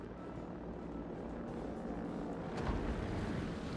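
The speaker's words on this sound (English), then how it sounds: "Here's our aircraft carrier going for the torpedo run." Carrier aircraft flying a torpedo run in the World of Warships naval game produce a steady, droning propeller engine roar that swells slightly toward the end, with no talking.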